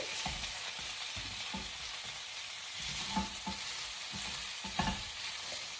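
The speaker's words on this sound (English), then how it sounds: "going to add the spinach and fry that up a bit" Spinach fries in a hot pan with a continuous soft sizzle, broken by repeated scraping and stirring strokes and a couple of louder clatters, close and with no talking.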